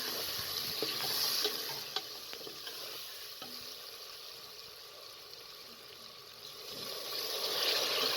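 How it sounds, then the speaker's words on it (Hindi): Steady sizzling of onion, garlic and spices frying in a hot pan, with occasional stirring clinks and scrapes, close and continuous throughout. "1 से 2 मिनट तक अच्छी तरीके से फ्राई करके टमाटर शामिल कर दें"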